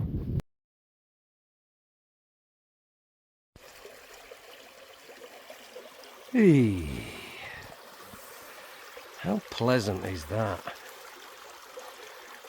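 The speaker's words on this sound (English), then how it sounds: "Just the sound of a babbling brook." A babbling brook on the North York Moors trickles softly and steadily in the open air, while someone talks over it with a few louder bursts of voice.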